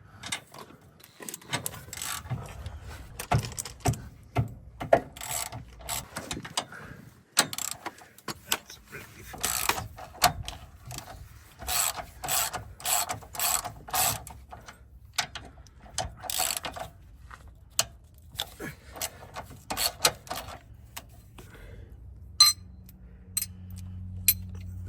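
Hand tools ratchet and clink while a car's sway bar is removed to free the intercooler, with irregular rapid ratcheting bursts and metallic clicks close by, no talk.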